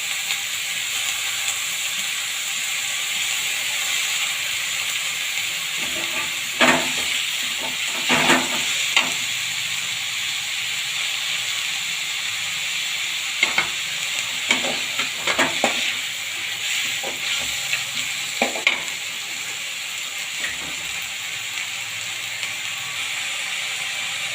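Tomatoes and curry leaves sautéing in a pan for a Tamil-style chicken curry, with a steady close sizzle and intermittent scraping clicks from stirring over about twenty-four seconds, no voices.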